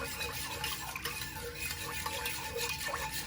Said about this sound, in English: I'm going to whisk this around